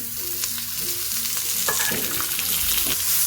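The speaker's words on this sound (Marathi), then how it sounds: "आपण हा कांदा घालू छान परतू ह्याला थोडं तेल टाकू" Chopped onion sautéing in a small amount of oil in a pan, a steady close sizzle with stirring scrapes and clinks throughout, no voices.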